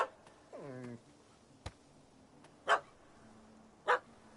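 A dog in the video game Witcher 3 barks twice in short, spaced yelps, following a brief whimper and a sharp click, all fairly faint against a quiet background.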